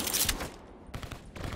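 Bursts of gunfire from a Black Ops 3 video game, two or three loud, sharp crackling volleys separated by brief gaps, close and fairly harsh, with no talking.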